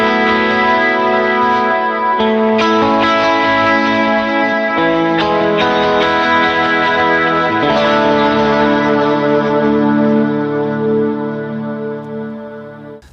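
A Stratocaster electric guitar in pickup position 2 plays chords through a pedalboard, shimmering with chorus and echo, sustained and loud before slowly fading at the end.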